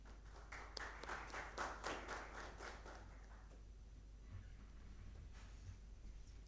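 Scattered applause from an audience at a business talk event, a quick burst of claps that peaks early and then thins into a few faint, sparse claps against a quiet room.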